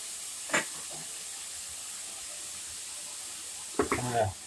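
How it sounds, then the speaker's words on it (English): Hamburger meat for Frito chili pie sizzles steadily in a pan, a constant close hiss running throughout, with a voice speaking briefly at the start and end. "Let the hamburger get down into the heat."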